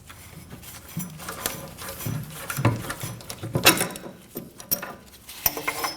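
A wrench works a bolt loose on the rear brake of a 2011-2016 Kia Optima, giving irregular ratcheting clicks and metallic taps, close by and fairly quiet.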